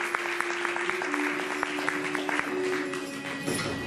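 An audience at a religious gathering applauds steadily, a dense sustained wash of clapping from many hands with a faint tonal hum underneath, continuing throughout.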